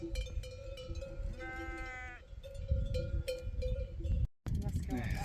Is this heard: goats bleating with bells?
yes